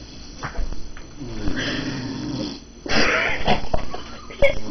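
A drunk man snores close by with slow, raspy, wheezing breaths: one long rattling draw, a brief lull, then another harsher breath that ends in a short snort.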